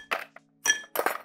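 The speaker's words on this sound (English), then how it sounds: "we're gonna add in some bigger pieces of ice." Bigger pieces of ice clink into a glass for a gin cocktail, three separate bright chinks with short gaps between them, close and fairly loud.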